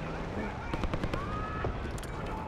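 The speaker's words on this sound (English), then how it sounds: "We've got gunfire to the right." Gunfire in the Black Ops 6 video game, a short burst of sharp rapid shots and crackling pops over a rumbling battlefield background.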